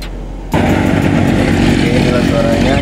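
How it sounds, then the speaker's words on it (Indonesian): A Yamaha MT-25 motorcycle bored up to 321cc with R3 internals starts after a brief quiet moment, then revs loudly and close with a raspy, continuous engine roar. "Ini untuk sektor mesin udah gue ganti jadi part R3, jadi sektor dalamnya itu 321 cc, kita ngeber aja."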